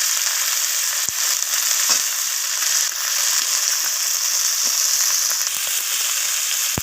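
Malabar spinach stems and onions sizzle steadily in hot oil in a pan, with occasional scrapes as they are stirred, loud and close throughout.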